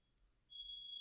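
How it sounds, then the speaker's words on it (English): A smoke alarm sounds indoors: quiet room hum, then a high, piercing continuous electronic beep starts midway and holds steadily to the end, with no talking. "that is a fire alarm."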